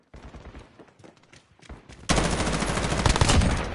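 Video game gunfire from Modern Warfare multiplayer, starting with scattered shots and then breaking into a loud, dense stretch of sustained rapid fire.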